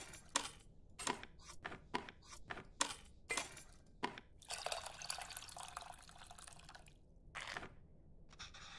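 Tamarind water drips while being squeezed in the cooking game Venba: a string of sharp, separate drops at a steady rhythm, then a few seconds of wet, hissing trickle before a couple more drops, close and alone.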